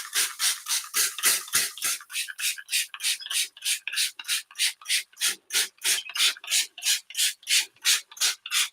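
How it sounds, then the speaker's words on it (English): A hand spray bottle mists a sourdough loaf with water in a rapid, steady series of short, sharp hissing squirts, close and clear, with no talking. "I'm also just going to give this a good spritz"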